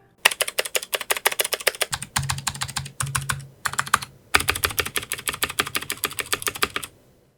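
Typing on an Ajazz K620T keyboard with clicky switches similar to Cherry MX Blue, in quick bursts of sharp, close keystrokes with brief pauses between runs.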